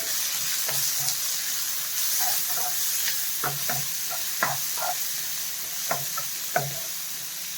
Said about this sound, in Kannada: 2 ಸಣ್ಣ ಈರುಳ್ಳಿ ಕಟ್ ಮಾಡ್ಕೊಂಡಿದ್ದೆ, ಅದನ್ನು ಹಾಕ್ಕೋತಾ ಇದ್ದೀನಿ ನಾನು